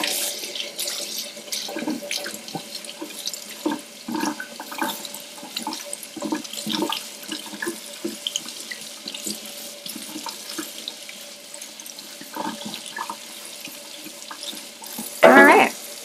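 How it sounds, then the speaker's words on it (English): Tap water runs into a kitchen sink while a potato masher is rinsed under it, a continuous close splashing stream with uneven spatters, ending in a short louder gush. "let's see how well it rinses off."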